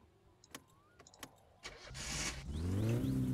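A car engine starting on a cold engine in the game My Summer Car, with a few faint clicks and key turns first, then the starter cranking and the engine catching into a rising idle, up close.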